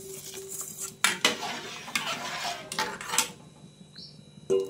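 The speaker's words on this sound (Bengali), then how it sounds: "তো আমি এখন চালটা দিয়ে দিচ্ছি" Rice is added to a pot of boiling water for khichuri and stirred, giving sharp metallic clinks and scraping bursts against the pot between quieter bubbling. The sounds are close and irregular.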